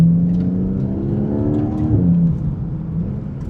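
Porsche GTS 4.0 flat-six with its exhaust valves disconnected, downshifting: a loud, deep engine drone with stepped pitch changes and a rev blip partway through, with no talk over it.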